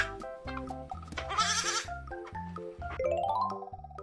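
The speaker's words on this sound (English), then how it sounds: "This is a goat." A goat gives a few shaky, nasal bleats in quick succession, loud and close with a rough, wavering tone and no other sounds around it.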